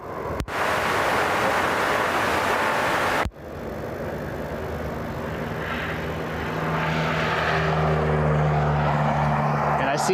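An airplane taking off at Cleveland Hopkins airport: a broad, distant roar of engines builds steadily after a sharp cut, with a low propeller-like hum growing louder, heard outdoors with windy rushing noise.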